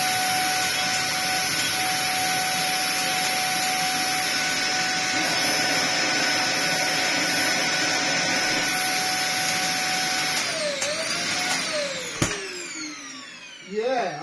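A Dyson DC50 upright vacuum cleaner with a broken brush roll runs loudly and steadily with a constant motor whine, then shifts pitch and winds down near the end with some clatter.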